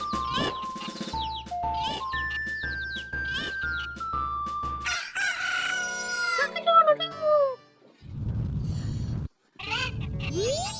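Cuckoo chickens cluck and crow in Zelda: Majora's Mask at Romani Ranch, with bright chirping calls mixed with melodic game jingles and chimes, fairly loud and busy throughout.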